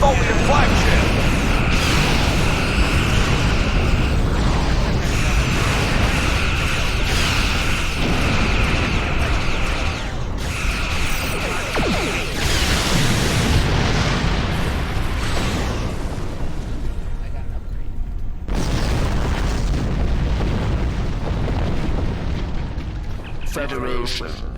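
An alien dreadnought fires in the Star Trek Online video game, producing deep rumbling explosions and booms layered over a constant sci-fi drone, with game dialogue spoken over the top and a brief drop in the roar near the end.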